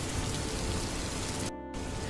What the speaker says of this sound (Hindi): बारिश की बूंदें अब भी गिर रही थी